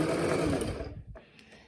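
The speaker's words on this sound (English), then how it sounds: "So let's start sewing." Sewing machine stitching fabric at a rapid, steady rhythm up close, then stopping abruptly with a faint mechanical click and quiet after.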